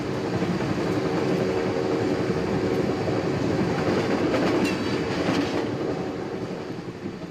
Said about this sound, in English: We begin on a train with two strangers